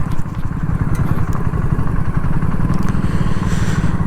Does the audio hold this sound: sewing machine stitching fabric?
no